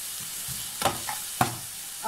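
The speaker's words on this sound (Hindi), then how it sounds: "मैंने प्याज फ्राई कर रही हूँ। इसको मैं हल्का सा सोते करूँगी।" Sliced onions frying in a pan of oil for fried chana chaat: a steady, soft sizzling hiss broken by two sharp utensil clinks from stirring, with no talking.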